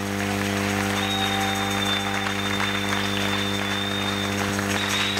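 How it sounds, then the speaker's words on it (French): A church congregation applauds loudly and steadily during a sermon, a dense continuous clapping over a sustained organ or keyboard drone, with no clear speech. "On acclame très fort pour le roi des rois."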